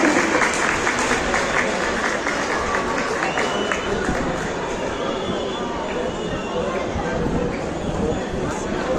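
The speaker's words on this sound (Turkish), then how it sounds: "Alkışlıyoruz." At a university graduation ceremony, a large audience claps loudly and continuously, a thick wash of applause mixed with crowd chatter and voices.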